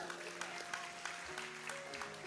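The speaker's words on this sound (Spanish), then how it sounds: "Denle un aplauso a Jocabed, por favor." Applause from a church congregation during a sermon, faint and distant patter of clapping under sustained musical tones, quiet throughout.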